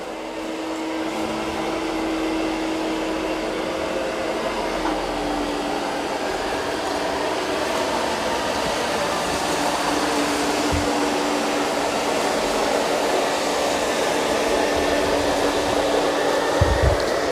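A Eureka E10s self-emptying robot vacuum and mop cleans the floor with a continuous, even whirring drone that stays close and steady throughout, with no voices.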